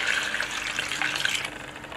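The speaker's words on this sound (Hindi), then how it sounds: "अब इसमें हम ठंडा पानी डाल देते हैं।" Cold water poured into a pot of boiled potatoes, a steady splashing gush that runs the whole time at close range with no talk.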